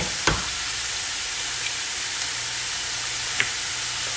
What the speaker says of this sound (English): we're going to crack those. Get those right into the pan